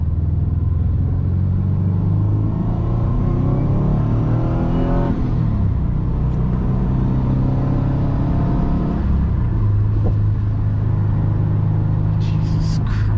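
A JDM-swapped 2006 Subaru WRX with a lightweight flywheel and 4.44 gearing pulls at half throttle on the highway, a loud steady engine rumble rising in pitch as it accelerates, heard from inside the car.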